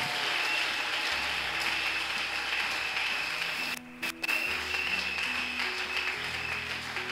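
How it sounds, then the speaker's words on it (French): A church congregation applauding its choir, with steady faint clapping and a brief break partway through before the applause resumes. "Est-ce qu'on peut acclamer pour la chorale?"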